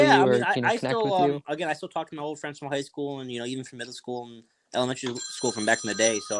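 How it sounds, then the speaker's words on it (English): A telephone rings in the background of a podcast conversation, its bell-like trill coming through near the end beneath steady close speech. "oh, sorry about that phone in the background."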